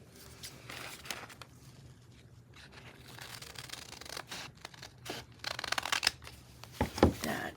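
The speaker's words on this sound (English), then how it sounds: "I'm just going to trim that right off." Paper being trimmed by hand for a junk journal signature, with soft rustling and scraping cuts that grow louder and sharper toward the end, close up and without talk.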